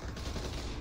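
Dense burst of UMP gunfire in the VR shooter Population: One, rapid loud shots blurring into one continuous roar, heard up close.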